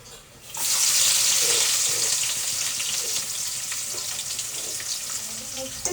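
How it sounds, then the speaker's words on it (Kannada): Onions hit hot oil and burst into a loud, steady sizzle that begins abruptly and then holds as a bright hiss, with a few faint clinks and a voice in the background. "ಇವಾಗ ಆಯಿಲ್ ಹಾಕ್ಬಿಟ್ಟು ಡೈರೆಕ್ಟ್ ನಾನು ಈರುಳ್ಳಿ ಹಾಕ್ಬಿಡ್ತೀನಿ."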